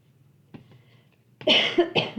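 A faint stir, then two sharp, close coughs in quick succession, loud against an otherwise quiet room.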